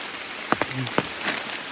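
Rain pattering on a forest floor where red mushrooms are being gathered: a short burst of a few distinct close drops and taps over a soft, steady hiss.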